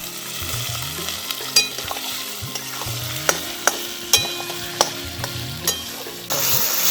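Chopped tomato hits a pan of frying onion and ginger-garlic paste for a chicken curry, giving a steady sizzle with scattered spatula scrapes and clinks, close and continuous, with a louder hiss near the end.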